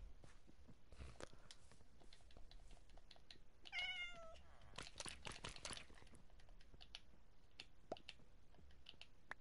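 Cat meowing in the video game Minecraft: a short burst of several rising meows near the middle, clear over a busy backdrop of keyboard tapping and clicks.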